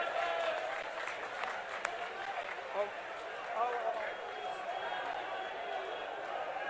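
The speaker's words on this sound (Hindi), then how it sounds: "जोरदार तालियों से स्वागत किया जाए।" A crowd at a Congress party political rally in Panipat claps to welcome party leaders, a moderate, somewhat distant wash of applause mixed with crowd chatter and occasional louder claps.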